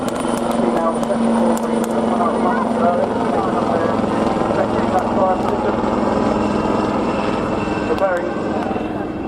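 Royal Navy Wildcat AH1 helicopter of 847 Squadron flying at the RNAS Yeovilton International Air Day, a continuous loud rotor and turbine drone with a low thrumming hum, heard under crowd noise and a voice talking.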